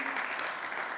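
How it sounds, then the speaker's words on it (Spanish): A church congregation applauds during a Spanish-language Sunday sermon, a brief, steady wash of clapping heard close and fairly loud throughout. "Denle un aplauso a Cristo Jesús."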